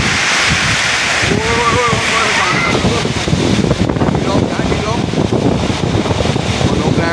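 Summer storm sweeping over a rural orchard home, with loud, steady gusting wind and rain roaring throughout and someone talking over the din.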